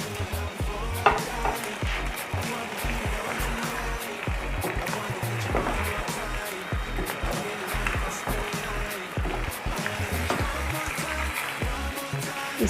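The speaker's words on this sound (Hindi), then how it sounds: "अब हम इसमें अपना सारा चिकन शामिल करते हैं, इसको अच्छी तरह से पकाते हैं।" Chicken pieces cook in a pan for chicken masala, with a constant close sizzle and frequent stirring and scraping, steady and fairly loud throughout.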